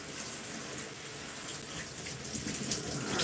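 Steady tap water streams continuously into a sink while tools are rinsed during a home hair wash-day routine, a close, even rushing hiss with no voices.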